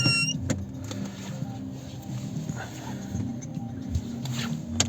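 Low, steady engine hum from inside a 2008 VW Golf V with a 1.6 MPI petrol-gas engine and AISIN automatic as it pulls away, with small clicks and rattles in the cabin.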